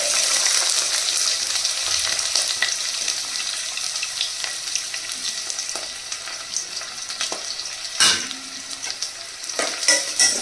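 Onions fry in a little oil in a pan for a prawn and okra pulusu, a loud, continuous close sizzle with occasional sharper clinks and scrapes near the end and no talking.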